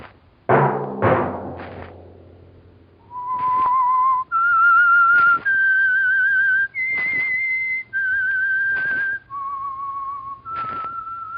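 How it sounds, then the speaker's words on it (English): Someone whistles the Whistler's signature theme for the old radio drama. A short musical sting opens it, then a clear solo whistle carries a slow, eerie tune in separate sustained notes that rise and fall. "Let that whistle be your signal from the Whistler"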